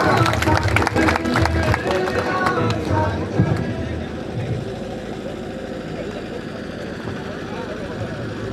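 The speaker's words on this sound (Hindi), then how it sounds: "जोरदार तालियों के साथ" Crowd at an outdoor political gathering clapping loudly, dense applause for the first few seconds that fades into a murmuring room tone, with people talking in the background.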